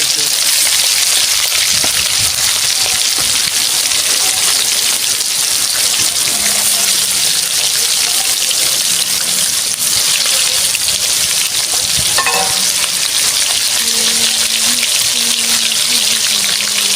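Chicken pieces for chicken chaap sizzle loudly in hot oil and ghee, a dense, steady crackle and hiss that fills the whole stretch, with faint muffled sounds behind it.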